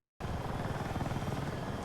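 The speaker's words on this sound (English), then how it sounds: "I think the helicopters are flying great in Battlefield 6." An attack helicopter in the video game Battlefield 6 cuts in suddenly after a moment of silence, a loud, steady rotor and turbine roar with a fast, chopping pulse throughout.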